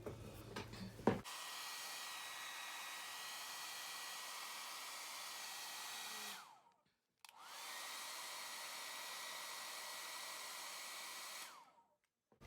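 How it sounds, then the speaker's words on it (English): A hair dryer drying paper blows with a loud, steady whoosh, switches off briefly, then roars again before stopping; a few soft rustles come before it starts. "It's always so fun drying everything with a hairdryer"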